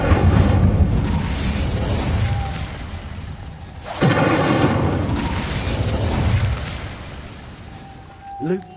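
A fire spell cast in the game Hogwarts Legacy bursts with a loud whooshing roar about midway, over a dense rumbling game background, followed by a short crackle near the end.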